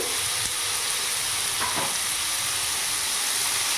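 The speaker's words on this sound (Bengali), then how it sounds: "ভালো করে নাড়াচাড়া করে কিছুক্ষণ ভাজা ভাজা করে নেব" Potato and carrot pieces frying in a pan with a little salt, giving a steady, close sizzle with faint stirring scrapes and no talking.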